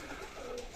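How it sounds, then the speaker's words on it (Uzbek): Pigeons cooing briefly, one soft low coo from a bird in a flock kept for watching in flight, faint against a steady background hiss. "Mana kaptarni zo'rlari"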